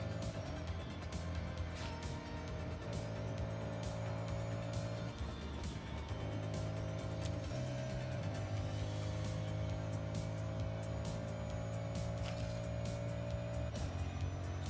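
An Audi race car in Forza Horizon during a group race, a steady droning engine with shifting pitch and gear changes, continuous and close.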